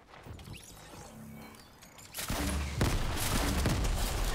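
In a video game shooter, a quiet stretch gives way to loud, rapid bursts of gunfire that continue as a sustained, close volley through the second half.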